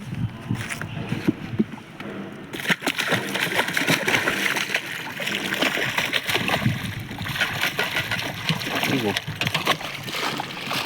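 Water splashing and sloshing as fish are released into a village pond, a steady watery rush running throughout with voices talking over it.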